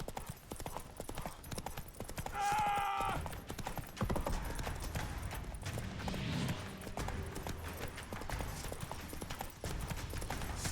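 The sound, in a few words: horse galloping in the video game The Witcher 3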